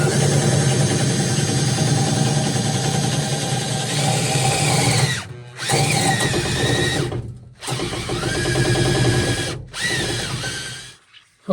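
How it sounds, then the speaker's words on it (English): A power drill runs in a home garage during work on a C-10, whining steadily at close range for several seconds, then cutting out and restarting in bursts with brief pauses between them, with no talk. "Let's get this drill back on it."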